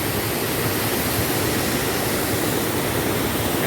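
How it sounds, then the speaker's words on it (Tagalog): Steady broadband rush of a river's flowing water in barangay Portic, Bugallon, Pangasinan, a continuous loud wash with no pauses and no voices. "Dinig na dinig yung hampas ng tunog ng agos ng tubig."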